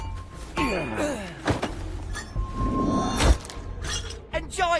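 Smashing sounds in the Shadow Gambit pirate stealth game: sharp shattering crashes and thuds scattered among whooshes and game effects, with a voice speaking in places.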